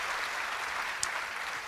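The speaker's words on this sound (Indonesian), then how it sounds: "Beri tepuk tangan bagi dia." A congregation applauds during a church sermon: a steady wash of clapping, moderately distant, sustained for the whole short stretch.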